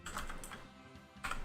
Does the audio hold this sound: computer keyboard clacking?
yes